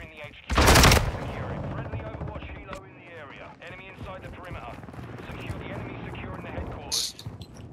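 A shotgun blasts loudly in Call of Duty: Modern Warfare 2, one heavy booming shot near the start and another sharp burst later, with someone talking over the game sounds in between.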